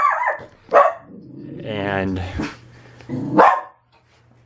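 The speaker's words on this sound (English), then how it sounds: "That's my dog." A pet dog named Bosco barks indoors, several sharp barks spaced over a few seconds, close and loud, with a person speaking briefly between them.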